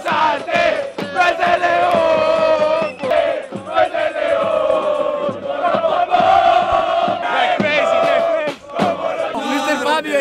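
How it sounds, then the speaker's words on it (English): Santa Fe football supporters at the 2016 Florida Cup roar and chant together, a loud, dense crowd of voices swelling and pulsing continuously with brief dips. "Let's go to Santa Fe crowd and cheers with them because they know how to cheers."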